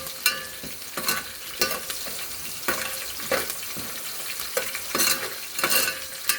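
Peanuts frying in a pan until golden brown while being stirred, a steady sizzle broken by repeated scraping stir strokes, close and moderately loud, no voices.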